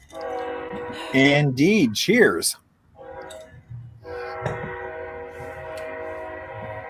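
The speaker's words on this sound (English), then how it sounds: "Is that a train I hear in the background?" A train horn sounds from a distance near Grand Avenue in downtown Glendale, Arizona, its long blasts with rail rumble running under and between people talking.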